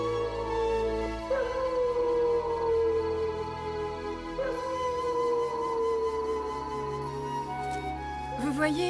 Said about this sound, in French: Tous les loups de la forêt sont prévenus. Et alors, ils obéiront au chant de ralliement.